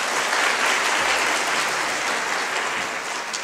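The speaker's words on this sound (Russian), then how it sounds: "Аплодисменты." Steady applause from a lecture audience fills the whole clip, dense clapping at an even loudness with no pauses.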